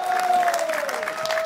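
Audience applause for a singer at a live stage show: a steady, dense wash of clapping hands from a crowd, fairly loud and continuous throughout, with a sustained tone ringing faintly beneath it.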